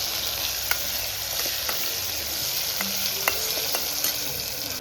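Turmeric, curry leaves and spices frying in a pan, a continuous close sizzle broken by light clicks and scrapes of a spoon stirring.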